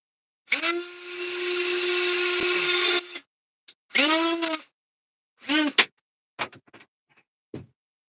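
A handheld power polishing tool spins up on a Corally Kagama 6S RC car rebuild, giving a long steady whine followed by several shorter revving bursts and brief blips, loud and close.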